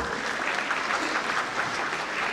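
An audience applauds at a Hindi-language event. The clapping is full and sustained and fairly quiet, heard alone for about two seconds.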